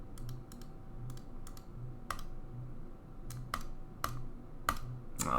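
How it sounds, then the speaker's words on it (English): Irregular clicks of computer keys being pressed, a few quick taps then sparser single presses over a steady low background hum. "I just press the keyboard."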